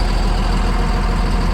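An old Caterpillar machine's diesel engine idles with a loud, deep, steady rumble and an even throbbing beat, close up and continuous.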